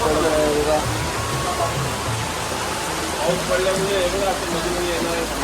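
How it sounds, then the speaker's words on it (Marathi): Steady rain hisses down evenly throughout, loud and close, during a Sai pilgrimage walk from Uran to Shirdi, with people talking and faint voices underneath. "पाऊस"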